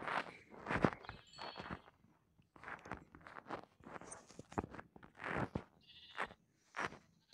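Lamb bleats in Minecraft, several short nasal calls repeated at irregular intervals, close and fairly loud, mixed with light blocky footstep-like clicks.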